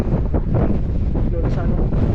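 Strong wind blasts continuously into the microphone from a fourth-floor vantage, a loud, rumbling, fluttering roar with no letup through the whole stretch.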